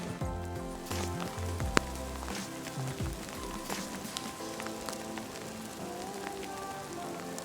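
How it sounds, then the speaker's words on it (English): Hail patters steadily outdoors on the Colorado Trail in July, a dense crackle of small impacts on nearby surfaces with a few sharper ticks, low and continuous, no voices. "it is hailing"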